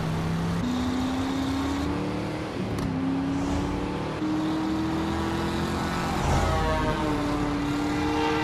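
A news helicopter in the driving game Driver San Francisco drones steadily throughout, a continuous rotor and engine hum with slowly shifting pitch, mixed with car engine noise and no talk.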